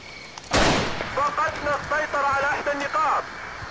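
RPG-7 rocket launch in the Battlefield 2 Black Hawk Down mod, one sharp loud blast with a fading whoosh, followed by a voice talking over the game sounds.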